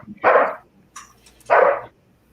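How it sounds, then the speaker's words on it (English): A dog gives two sharp, loud barks about a second apart, close by, with a faint yip between them and quiet background otherwise. "Boy, are my dogs barking."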